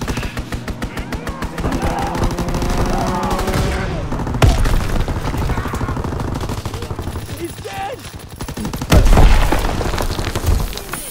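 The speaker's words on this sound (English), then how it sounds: "Strafing run inbound." Gunfire and booming blasts from a strafing run in the Call of Duty WWII video game, dense bursts of shots and heavy thuds running throughout, with a couple of louder impacts near the end.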